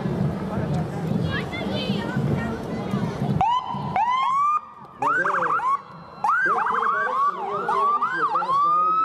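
An ambulance siren from a Veterans Day parade in St. George, Utah wails nearby, first a long rising and falling tone, then rapid repeated yelps, loud and close, over street noise.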